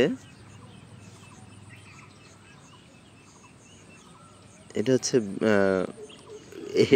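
Fowl in a rural chicken coop give a short burst of clucking and gobbling calls toward the end, after a quiet stretch with faint background, and a person speaks nearby.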